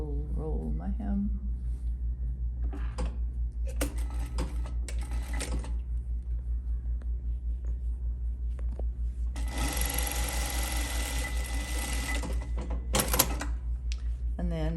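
A sewing machine rolls a hem on an Antoinette Market Tote, one steady burst of stitching partway through, with someone talking before and after.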